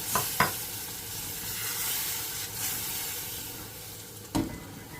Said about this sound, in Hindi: इस तरह से थोड़ा थोड़ा दूध डाल के इसको चलाती जाऊंगी।